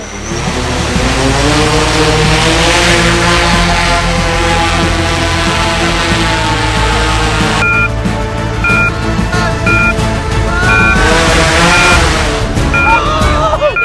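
A human-carrying drone powers up with a loud, continuous roar of motors and rotors, its pitch climbing and shifting as it spins up, joined by a repeating electronic beep partway through, with no voices.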